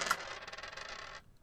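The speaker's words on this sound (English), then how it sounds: "you take your dice and you roll them" Dice tumbling and rattling across a surface as they are rolled for a dinner-choosing game, a quick faint clatter lasting about a second before it stops.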